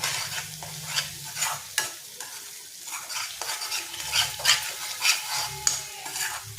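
Egg and onion stirred and fried in a pan for a spicy egg-onion dish, a steady sizzle broken by repeated scraping and clinking of a spoon against the pan, close and fairly loud.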